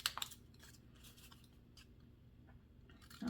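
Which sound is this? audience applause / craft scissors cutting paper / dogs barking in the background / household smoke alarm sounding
craft scissors cutting paper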